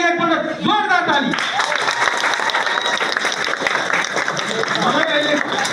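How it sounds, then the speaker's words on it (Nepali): An audience bursts into loud, sustained applause at a student motivational program, many hands clapping densely and close, following a brief spoken line at the start. "ल तपाईँको लागि एकपल्ट जोरदार ताली।"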